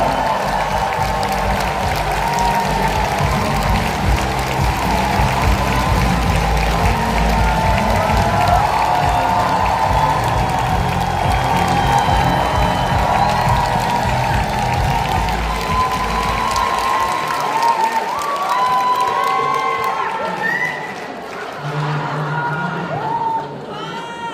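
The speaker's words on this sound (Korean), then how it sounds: "유니티 인터내셔널 최면스 멤버 크라운 대표 이해상 대표님을 큰 박수로 모시도록 하겠습니다" A seminar audience claps to welcome a company director onto the stage: loud, dense, sustained applause with some cheering and crowd noise, close and full, fading toward the end.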